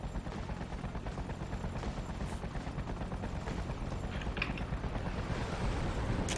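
Gunfire from soldiers in the game Freedom Fighters crackles almost nonstop over a dense rumbling battle bed, steady and loud with no clear gaps between shots.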